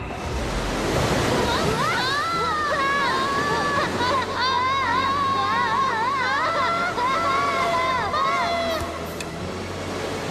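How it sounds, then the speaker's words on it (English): Rushing water roars through an underground cartoon scene, a loud broad wash of noise that builds early and holds steady while animated characters' voices and whistly tones play over it. "Do you hear water?"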